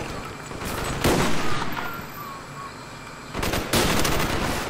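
Bursts of automatic gunfire from the Black Ops video game on the Jailbreak Jungle map, loud and dense, forming continuous rattling volleys that surge and ease off over a few seconds.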